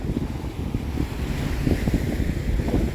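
Steady low rumble of Baltic surf on a packed-sand beach between Jurata and Hel, with wind buffeting the microphone, waves washing in continuously close by, no voices.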